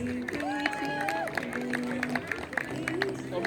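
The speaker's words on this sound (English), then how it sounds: "Big round of applause again," Crowd applause and scattered cheering at a Kelowna BMX race, a steady wash of clapping heard under an announcer's amplified voice that runs throughout.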